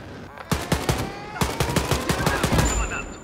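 Rapid bursts of gunfire from a Wolfenstein: Youngblood firefight, a quick run of loud, close shots with a brief gap, followed by a high ringing tone near the end.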